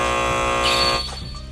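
A game show buzzer from a kids' online quiz blares as one loud, steady harmonic tone for about a second, then cuts off into a brief, fainter tail.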